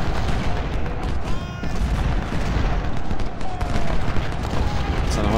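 Musket volleys and cannon fire in the Civil War strategy game Ultimate General: dense crackling rifle fire runs throughout with deeper booms mixed in, loud and continuous, with a voice briefly audible.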